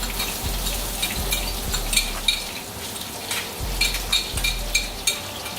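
Salmon frying in a pan with minced garlic just added, a soft steady sizzle with intermittent scraping taps and spatula clicks, close and moderately quiet, no talking.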